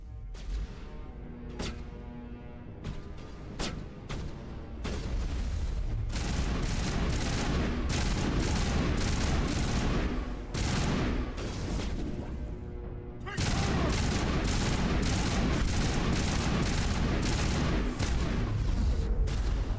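Gunfire in the Mass Effect video game: scattered sharp shots at first, then sustained dense volleys and booming blasts, loud and close, with a brief lull before the barrage resumes.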